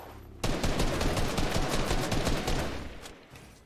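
Rapid bursts of gunfire from the video game Fortnite fire almost continuously for about three seconds, loud and dense, then fade out near the end.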